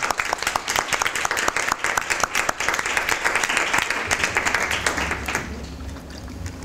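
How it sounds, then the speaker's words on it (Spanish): Audience applause fills a room after a talk about a short-story collection, steady dense clapping that carries for several seconds and then fades, with murmured voices near the end. "Un aplauso, ¿no?"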